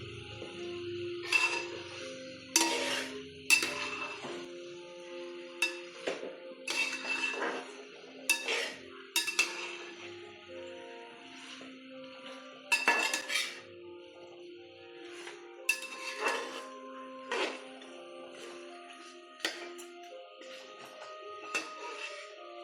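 A metal spoon stirs chicken biryani in a cooking pot, with a run of sharp clinks and scrapes at irregular intervals, fairly quiet and close, no voices.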